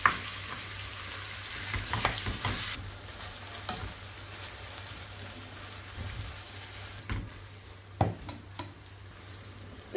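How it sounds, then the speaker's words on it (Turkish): Ground beef frying in olive oil in a pan for a Turkish Kayseri yağlama recipe, a steady soft sizzle with occasional stirring clicks and scrapes, close and moderately quiet, no voices. "Yağımızın içine 500 gram kıymayı ilave edip"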